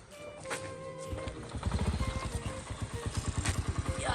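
Motorcycle engine running nearby, starting quiet and then settling into a steady rhythmic thumping idle that grows louder, with faint background noise.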